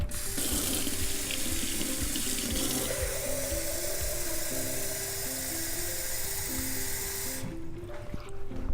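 Water runs steadily from a tap into a container, its pitch rising faintly as it fills, then the flow cuts off near the end.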